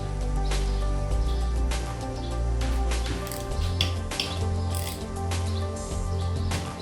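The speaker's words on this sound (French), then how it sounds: "On va commencer par desserrer lentement tous les vis." Ratchet wrench clicking steadily as engine casing screws are loosened on a Derbi Senda moped, close and loud over a constant low hum, with repeated bursts of ratcheting.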